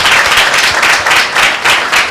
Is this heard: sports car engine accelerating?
no